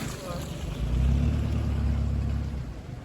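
A vehicle on road tyres churns through a muddy pig-pen pit, its engine a low rumble that swells midway and eases off, with wind buffeting the microphone.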